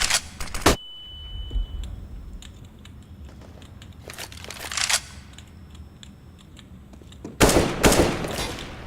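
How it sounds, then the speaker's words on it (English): Counter-Strike: Global Offensive match with flashbang grenades and gunfire: bursts of sharp shots and bangs come in clusters near the start, middle and end, separated by quieter stretches with a high ringing tone and faint clinking. "Throwing flashbang."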